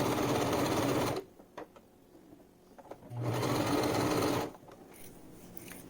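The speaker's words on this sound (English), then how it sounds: "what I'm doing here is just sewing that front curve on the lining pieces and the front facing pieces" Home sewing machine stitching a front curve through dinosaur-print fabric lining for a face mask, two steady whirring runs of about a second each separated by a quiet pause with small handling clicks.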